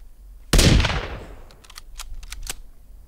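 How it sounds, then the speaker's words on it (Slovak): A sniper rifle in the survival game Sons of the Forest fires one loud, sharp shot with a long decaying boom, followed by a scatter of fainter clicks and thuds. "Ja inak skúsim tú snajperku"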